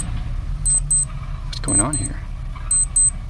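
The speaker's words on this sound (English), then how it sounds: "Oh, I set an alarm." An alarm goes off on a Linux Pinephone: three pairs of bright, high electronic beeps repeat at a steady rhythm, close by, while a person talks over them.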